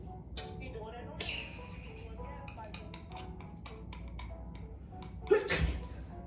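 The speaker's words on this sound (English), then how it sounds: "You just sneezed on me." A person sneezes loudly once, close up, near the end of a stretch of casual conversation between people indoors.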